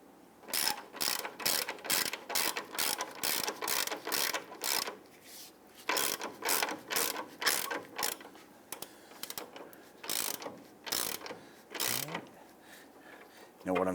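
A hand ratchet snugging the front lower control arm bolts on a 2000-2006 Toyota Tundra, rapid close clicking in repeated bursts with short pauses between strokes.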